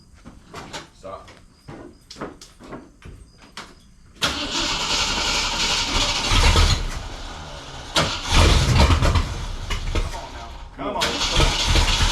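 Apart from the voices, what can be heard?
engine cranking and trying to start after sitting a year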